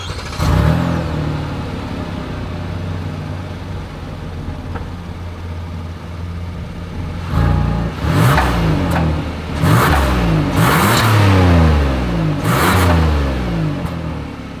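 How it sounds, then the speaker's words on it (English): Exhaust of a 2023 Hyundai Palisade, steady loud idle drone followed by several sharp revs that rise and fall in quick succession, close by with no talking. "As always, here is that exhaust clip."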